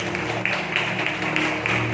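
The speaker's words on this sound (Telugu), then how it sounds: "చప్పట్లు కూడా దేవుని స్తుతిద్దాం" A church congregation claps hands in praise in an even, rhythmic beat, about three claps per second, blended into a loud, continuous wash of worship music.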